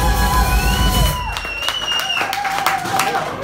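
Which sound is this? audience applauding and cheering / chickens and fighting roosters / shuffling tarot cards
audience applauding and cheering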